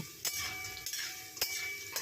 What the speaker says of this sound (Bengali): নুন আর হলুদ দিয়ে ভালো করে আলুটাকে লাল লাল করে ভেজে নিচ্ছি